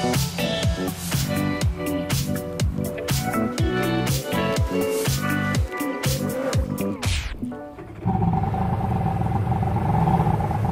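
A Sea-Doo personal watercraft engine runs loud and close, pulsing and revving unevenly at first, then settling into a steady, continuous drone near a lake.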